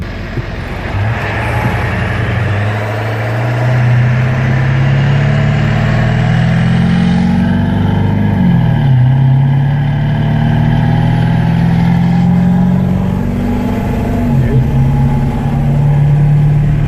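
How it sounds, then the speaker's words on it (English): A 1997 Ford F-250 7.3L diesel engine idles steadily after an engine flush and oil change, with a low, even rumble that holds at the same pitch throughout, with no voices. "The engine is a lot quieter."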